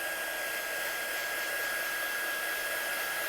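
A heat gun drying ink on a die-cut card, a steady loud airy whoosh with a constant whine, continuous and unbroken throughout.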